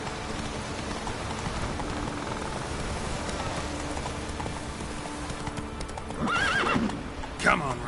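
Roach, a horse in The Witcher video game, clip-clops steadily through steady rain, then whinnies loudly near the end with a second short neigh following; no speech.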